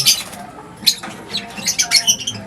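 Parrot hen giving a few short, sharp squawks and chirps in quick succession, near and moderately loud in a quiet indoor setting.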